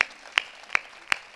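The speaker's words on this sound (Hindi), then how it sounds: "एक बार उनके लिए आपकी तालियां उठे" A few sharp, isolated hand claps fall in a steady slow rhythm, about three per second and fairly quiet, from the audience at a Hindi comic poetry gathering (kavi sammelan).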